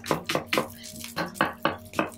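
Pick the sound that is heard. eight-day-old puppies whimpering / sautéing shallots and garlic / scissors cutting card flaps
sautéing shallots and garlic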